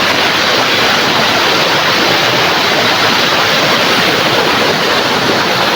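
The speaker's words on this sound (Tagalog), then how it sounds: "Ayan lang yung mga paligid ng ilog dito" A river flows near farm fields, giving a loud, unbroken wash of rushing water that stays steady and close throughout, with no voices.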